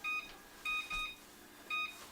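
A kitchen oven timer gives several short, clear electronic beeps in an irregular pattern as it is set for pizza baking, close and alone in a quiet room.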